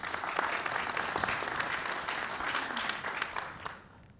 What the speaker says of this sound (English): So can I get a quick round of applause for our panelists today?